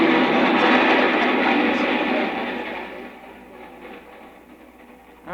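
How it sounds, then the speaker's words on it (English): A train approaches as a radio drama sound effect, a loud broad rumble and clatter that swells early on, then fades and thins toward the end. "I saw a train approaching, bound for New York"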